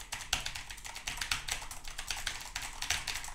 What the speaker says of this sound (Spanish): este micrófono puede captar el sonido de las teclas cuando estoy jugando en